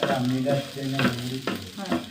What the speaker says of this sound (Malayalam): ഇതൊന്ന് വറുത്തെടുക്കട്ടെ കേട്ടോ